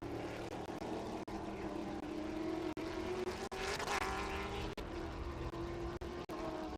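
Chevy Camaro Trans Am TA2 race car at Watkins Glen qualifying, its engine droning steadily and swelling as it passes, with sharp gear-change cuts breaking the tone and no talk over it.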